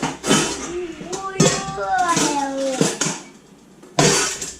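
Ceramic bowls clink and clatter as they are shuffled and a bigger one is pulled out in a kitchen, with ringing knocks over a person talking nearby.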